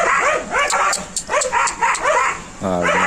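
A dog stuck in something barks and whimpers close by, with repeated short yips and whiny cries over a few seconds.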